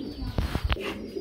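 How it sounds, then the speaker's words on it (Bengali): Single Red Lahore male pigeon at a pigeon sale, giving a few short coos close by over a soft background hum, with no talk. "এক পিস সিঙ্গেল কবুতর দেখতে পাচ্ছি"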